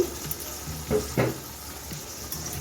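Ginger paste and coriander powder fry in a pan with a little added water, giving a steady sizzle and a few soft stirring scrapes, close by and without talk.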